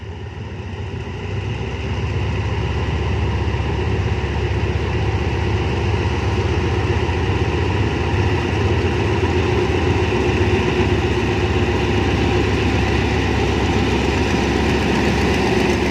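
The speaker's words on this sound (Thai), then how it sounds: "ไปฟังเสียงเครื่องกัน" Diesel locomotive D.4508 idling at the head of Thai special express train 9 from Bangkok to Chiang Mai: a loud, close, steady heavy engine throb that rises slightly in the first seconds, then holds constant.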